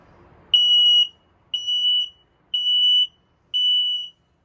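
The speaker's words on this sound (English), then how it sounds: "It'll beep like that again, and then it'll do another style of beep." Four loud, high-pitched alarm beeps from a carbon monoxide and propane detector being tested in a 2024 Palomino Real-Lite HS-2114 truck camper, in a steady rhythm, each about half a second long with short gaps between.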